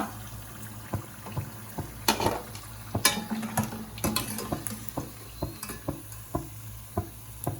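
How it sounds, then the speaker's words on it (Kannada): Paneer pieces deep frying in a kadai of oil for paneer manchurian, stirred as they cook: steady close sizzle broken by regular clinks and scrapes of a utensil against the pan. "ಎಲ್ಲಾನ ಫ್ರೈ ಮಾಡ್ಕೊಳ್ಳೋಣ ಇದೇ ಥರ"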